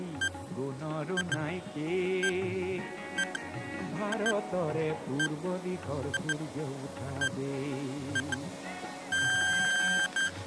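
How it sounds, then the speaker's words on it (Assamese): A quiz countdown timer ticks with periodic beeps alongside music and voices, ending in a rapid run of electronic beeps. "ইয়াত টাইমাৰ আৰম্ভ কৰিছোঁ"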